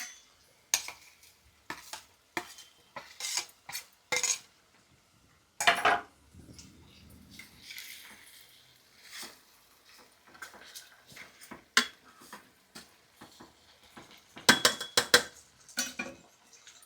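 A spoon scrapes and clinks against a pot while mixing masala and Kashmiri chilli powder into a brinjal curry, in short irregular bursts of metallic stirring with quiet gaps between them.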